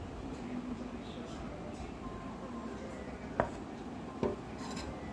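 Thick boiled palm fruit pulp is poured from a pot onto wheat flour in a bowl, producing a steady soft scraping and rubbing with two sharp clinks of utensil on the vessel near the end.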